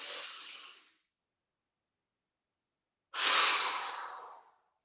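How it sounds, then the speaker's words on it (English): Two slow, airy breaths separated by a long silence, a soft exhale fading out first, then a fuller, louder breath swelling and trailing off, close and alone during a tai chi qigong breathing exercise. "Let's take another big breath. Inhale, and exhale."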